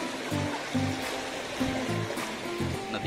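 The Chandrabhaga river rushes steadily during a crossing, its broad, continuous wash fairly close, with faint low tones surfacing now and then beneath the flow.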